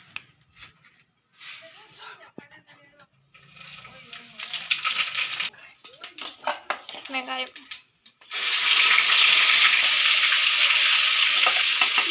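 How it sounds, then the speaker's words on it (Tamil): Fennel seeds hit hot oil for a chicken curry and set off a loud, steady hiss of frying that holds for the last few seconds, after a stretch of a person talking over faint clatter. "எண்ணெய் நல்லா காஞ்சிடுச்சு இப்போ வந்து நம்ம சோம்பு மட்டும்தான் போட்டுக்க போகிறோம்"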